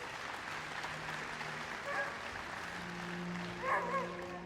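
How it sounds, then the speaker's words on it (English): An audience at a Crufts 2016 dog show presentation applauds steadily, a moderate wash of clapping with a few whoops or cheers, fairly distant and continuous. "Let's give them all a big round of applause"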